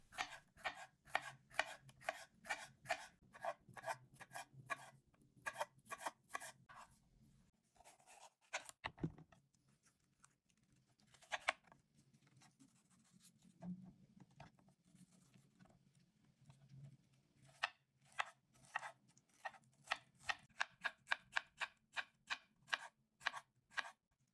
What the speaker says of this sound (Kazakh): 2 болгар бұрышын жолақтарға кесеміз.